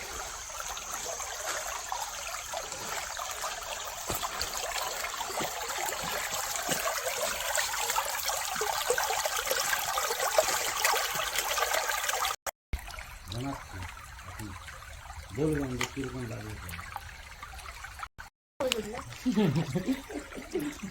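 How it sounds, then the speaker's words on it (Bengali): Stream water flows and trickles steadily along a hill trek through dense forest near Asanpani village in the Dalma hills, a continuous close rushing wash with brief breaks, and a voice speaks over part of it. "জলের আওয়াজটা বড্ড মিষ্টি"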